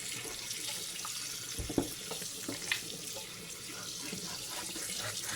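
Steady running water from a kitchen tap while a whole turkey is washed and cut up, a continuous close splashing hiss with small clatters, no talking.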